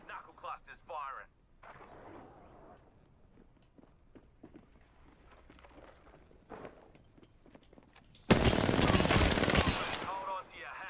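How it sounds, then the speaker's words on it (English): Knuckle cluster explosives firing in Apex Legends, a sudden loud burst of crackling blasts near the end after quieter footsteps and voices, with people talking earlier. "Stand back, knuckle clusters firing."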